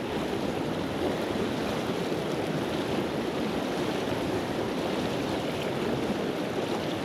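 Swift, swollen floodwater in a trout stream rushing past in a loud, constant broadband roar with no breaks, close by and unaccompanied.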